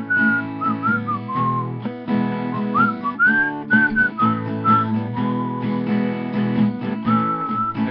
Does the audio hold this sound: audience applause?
no